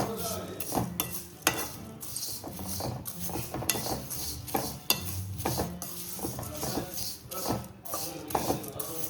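A spoon stirs a healthy snack mixture in a pan with repeated scraping strokes and clinks against the metal over a light sizzle, in an uneven, rhythmic pattern close by.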